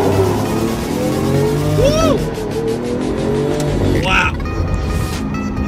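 A Lamborghini Aventador SV accelerates hard, its engine roar rising and shifting steadily beneath a person talking throughout.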